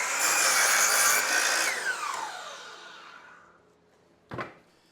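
A power saw cuts through a piece of scrap lumber for shelving, loud and close, its whine dropping off as the cut finishes, then a single sharp knock near the end.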